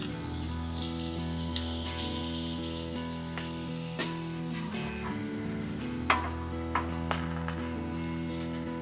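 Beef burger patty sizzling steadily on a hot griddle, a constant crackling fry that carries through, with a few sharp metallic clicks from a spatula pressing it down.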